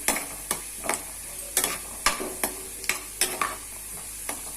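Mustard seeds and cumin fry in hot oil for a tempering, a spoon scraping the pan in about a dozen sharp, regular strokes above a soft background sizzle, near and with no voices.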